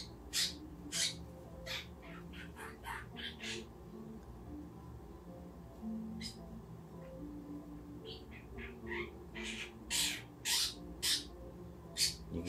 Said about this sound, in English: You can hear my birds in the background.